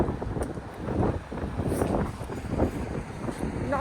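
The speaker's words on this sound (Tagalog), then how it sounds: "Lakas ang hangin." Strong wind buffets an outdoor microphone in a steady low rumble, with broadband gusts swelling and easing throughout while someone eats outdoors.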